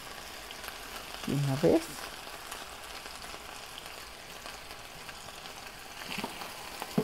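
Chopped nopales sizzle steadily in a pan with onion, garlic and salt, a continuous frying crackle with a brief stirring clatter near the start and a short spoken phrase.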